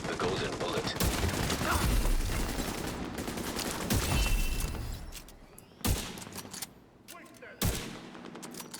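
Bursts of video game gunfire, dense rapid shots for the first few seconds, then sparse sharp single reports, loud and close.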